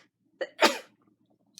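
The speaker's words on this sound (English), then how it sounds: "I have to sneeze, hold on." A single close sneeze comes as a short intake, then a sharp burst, with a faint small noise after it in otherwise quiet surroundings.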